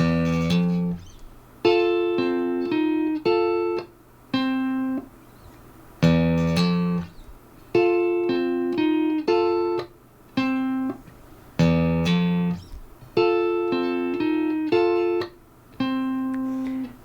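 Electric guitar playing a blues riff, alternating fingerpicked and pick-struck notes in short repeated phrases with brief rests between, clear and close with no talking.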